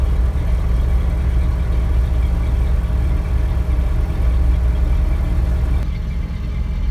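A carbureted 1979 Ford F-350 idles right after a cold start with no choke, a steady, loud, low rumble that holds evenly throughout with no voices.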